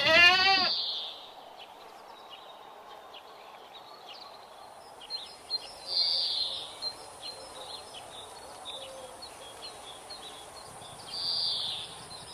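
A goat on a rural Nepali farm lets out one short, close bleat at the very start, then the scene settles into quiet outdoor ambience with faint bird and insect sounds.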